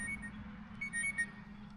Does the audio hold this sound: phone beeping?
yes